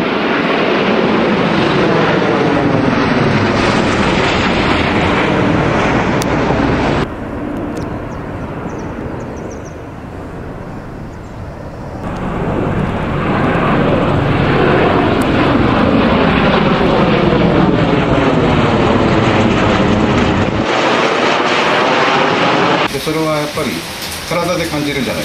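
A military Osprey tiltrotor aircraft flies low over Takae, making a loud, sustained broadband engine and rotor roar. The roar dips partway through and then swells again, with voices heard at times.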